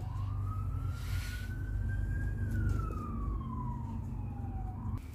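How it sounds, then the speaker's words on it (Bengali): An ambulance siren passes near a home garden where aubergines are being planted. It gives one slow wail that rises and then falls, moderately faint, over a steady low traffic rumble, with no talk. "আপনারা অ্যাম্বুলেন্সের সাউন্ড শুনতে পাচ্ছেন।"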